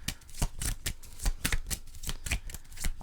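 Oracle cards being shuffled close by, a rapid run of crisp riffling flicks and soft slaps in an uneven rhythm, with no talking.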